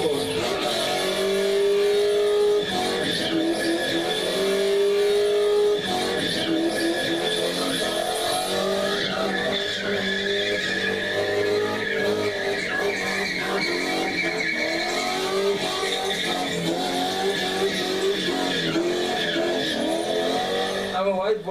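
A car spinning in circles at a spinning event gives a loud, continuous engine rev with rising and falling pitch and long squealing tires, while people talk over the noise throughout.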